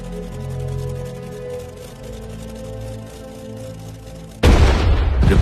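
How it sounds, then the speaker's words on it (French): Low droning rumble, then a single sudden loud cannon blast near the end, booming and sharp, the opening shot of World War II fired on Danzig. "Le premier coup de canon de la Deuxième Guerre mondiale est tiré sur Danzig."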